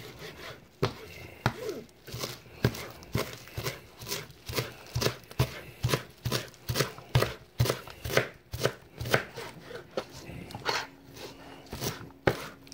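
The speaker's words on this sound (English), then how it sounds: "I'm going to finally chop this parsley as much as I can" A knife chopping parsley on a cutting board, with a long run of regular, evenly spaced chops about two per second, close and crisp, with no one talking.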